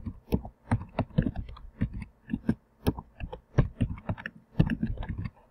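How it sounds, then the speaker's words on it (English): Computer keyboard keys clatter in quick, uneven bursts as a poem is typed into a slide presentation, close and fairly clear with brief pauses between runs of keystrokes. "So then you're going to type in your whole poem."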